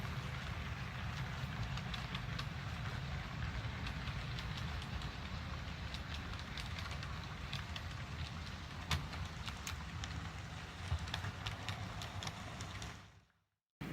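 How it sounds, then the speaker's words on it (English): An HO-scale style model freight train hauling boxcars and log cars rolls into a layout yard, giving a steady low rumble and rattle with scattered clicks of wheels on rail joints throughout, before cutting off abruptly near the end. "this is a train coming into Penticton Yard"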